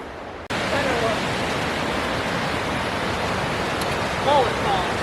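Distant roar of Mullet Falls in the Neversink Gorge, New York, a broad steady rushing wash heard from up the trail, with faint brief chirps near the end.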